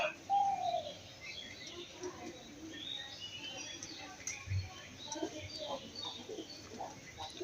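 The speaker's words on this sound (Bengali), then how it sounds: "এটা শান্তির প্রতীক কবুতর।" White pigeons, a pair, cooing softly nearby with a rising-falling coo early on, followed by scattered faint chirps and light pecking sounds over quiet background.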